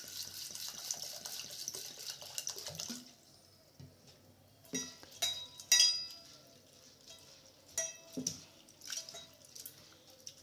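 Sago pearls rinsed in water, with tap-like running water at first, then a quieter stretch broken by several splashing, swishing bursts as the pearls are stirred and washed.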